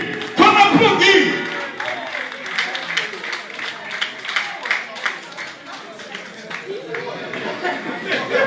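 Applause and crowd chatter ring out at a film award ceremony as an actress receives a prize, clapping strongest early on, then continuing in uneven waves beneath voices.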